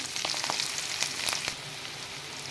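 Onion and fenugreek seeds fry in cold-pressed sesame oil, a soft steady sizzle with light pops and crackles, quiet and close, without any talking.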